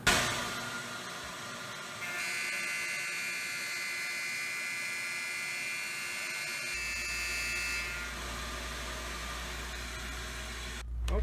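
A Tormach CNC machine cuts a step into a vacuum box part with a dragknife, giving a loud steady high whine and buzz that shifts pitch partway through, with a low hum joining later and a sudden stop near the end.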